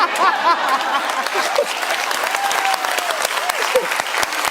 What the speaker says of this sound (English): And look at all the guys over there clapping.